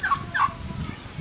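A turkey at a small outdoor zoo gives two quick, fairly close gobbling calls over soft background noise.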